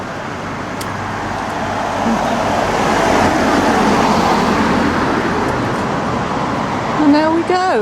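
Cars passing along a village road by Overstrand sports field, a steady roadway swell that builds and lingers as vehicles go by nearby, with no talk.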